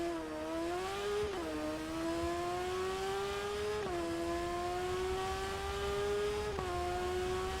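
A racing motorcycle engine in the TT Isle of Man video game drones loudly and continuously, its pitch rising steadily through each gear and dropping sharply at three shifts, with no speech over it.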